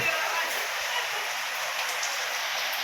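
Steady rain falls in a continuous broadband hiss, close and even throughout, with no clear speech over it.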